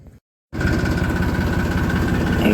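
A farm tractor engine runs while reversing, starting after a brief silence and then holding a loud, steady, throbbing rumble close by.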